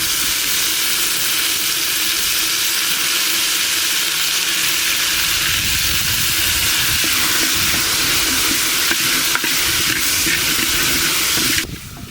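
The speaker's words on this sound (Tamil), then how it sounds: "நம்ம இப்போ தக்காளி போட்டுக்கலாம்." Tomatoes frying in hot oil with browned onions for a dried bat fish curry, a loud steady sizzle and hiss that continues without pause, with a brief shift near the end.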